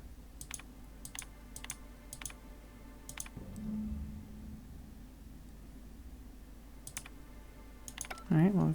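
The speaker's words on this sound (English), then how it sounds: "Mash random keys." Random keys mashed on a computer keyboard: quick, sharp clicks in short scattered bursts over a low hum, fairly quiet, with a louder rumble at the very end.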